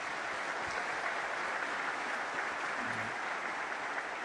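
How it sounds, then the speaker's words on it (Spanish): Steady, dense applause from an audience at a trade-union rally washes through evenly, moderately distant and unbroken, with no speech over it. "Un aplauso para las mujeres que hoy nos acompañan."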